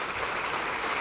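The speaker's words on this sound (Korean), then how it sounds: "국회의원들과 박수로 인사를 나누고 있습니다." Applause in the National Assembly chamber as the president departs after an address to lawmakers, a brief, even patter of many hands clapping at a moderate distance.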